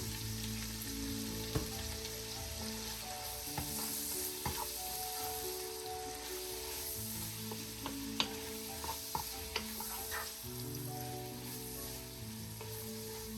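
Black-eyed beans and smoked fish fry together in a pan, giving a steady sizzle that runs close and even the whole time, with a few sharp clicks and scrapes of stirring scattered through it.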